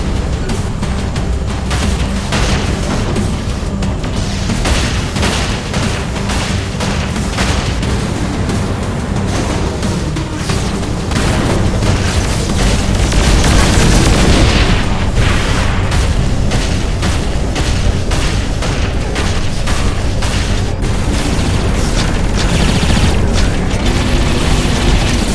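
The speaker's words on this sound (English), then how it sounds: "This will be much different than any other weapon you're used to. It's a gun arm" Gun arm weapon in Saints Row IV firing amid repeated explosions, loud dense booms and blasts layered over continuous action noise for the whole stretch, no talk.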